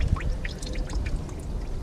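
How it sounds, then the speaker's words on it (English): Engine oil drains from a Toyota pickup truck into a pan outdoors in wind, a faint, continuous trickling pour with scattered drips and low wind rumble underneath. "Alright, so we're going to let this drain."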